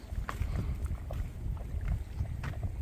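Low, muddy bubbling of a mud volcano at a geothermal area in New Zealand, with soft irregular pops and a steady rumble, heard alone outdoors with some wind buffeting the microphone.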